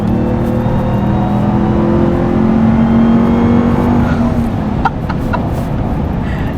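Dodge RAM TRX pickup truck engine accelerating on flat road, a loud continuous drone with rising pitch and a few brief clicks near the end, no talk.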